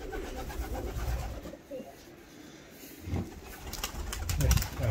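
Ala pigeons coo in low, soft phrases near a seaside loft, with a fuller burst of cooing toward the end over faint outdoor ambience and brief human voices.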